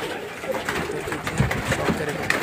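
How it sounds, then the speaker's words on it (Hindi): Teddy pigeons coo in low, soft throaty bursts, several birds in a loft overlapping at close range over a faint background rustle. "ये देखिए एक टेडी कबूतर का पूरा लॉट है।"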